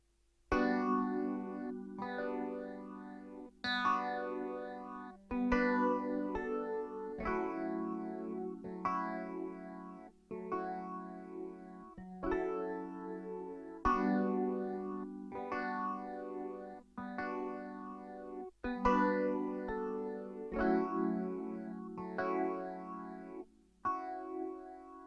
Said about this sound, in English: I layered the vibraphone with a clavinet